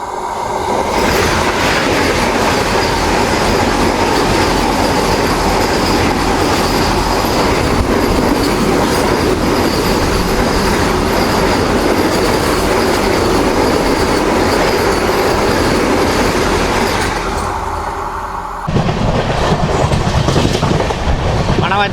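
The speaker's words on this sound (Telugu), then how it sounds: "మన ఎదురుగా చూసుకుంటే తిరుపతి నుంచి సికింద్రాబాద్కి వచ్చే వందే భారత్ ట్రైన్ అయితే వస్తుంది." The Tirupati–Secunderabad Vande Bharat train rushes past a waiting Duronto Express. A loud, sustained roar of rolling wheels and clattering carriages continues for many seconds, then shifts abruptly near the end.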